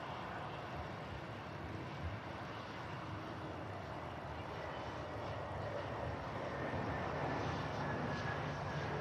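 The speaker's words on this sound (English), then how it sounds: "777 departs" A Boeing 777 airliner departing Manchester Airport, a steady broad jet roar that slowly swells a little over several seconds, heard from a distance with no talking.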